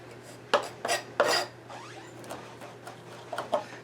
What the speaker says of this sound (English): I usually cut up the thyme by folding it in half and just chopping through it.